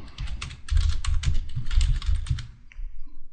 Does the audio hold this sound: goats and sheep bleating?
no